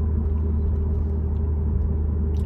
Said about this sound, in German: Das Auto klingt einfach so schön,